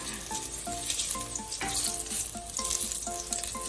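Three slices of ginger sizzle in hot oil in a pan for short ribs, a steady close crackle with light repeated clinks over it and no talking.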